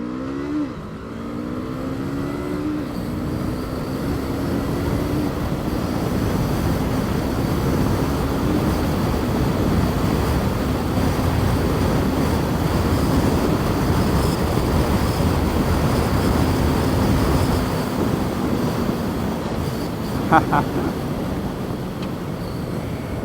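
A 2021 VOGE 500AC motorcycle accelerates through several quick upshifts, its engine note rising in pitch then settling into a steady, loud roar with heavy wind rush, a brief mechanical clunk near the end.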